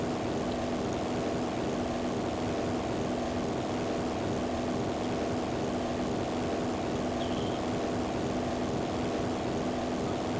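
Hellcat propeller fighter in flight in the video game Hellcats Over the Pacific, a steady, unbroken engine drone with an airy hiss that holds at an even level throughout, with no voices.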